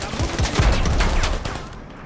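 Gunfire in the video game Predator: Hunting Grounds, a rapid run of loud, close shots clustered in quick bursts over about two seconds, with no talk.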